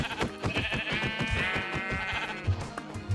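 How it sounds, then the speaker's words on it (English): Sheep bleating in the Minecraft video game, a stretched, wavering cry over a steady run of rhythmic game sounds, close and fairly loud. "Let me by hand take out this sheep."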